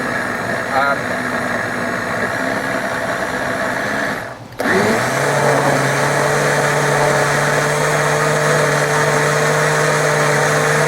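A smoothie maker blender with a 3 horsepower motor running on a low setting to break up and mix a fermenting culture, a steady whirring drone that cuts off briefly and restarts lower and smoother, loud and continuous.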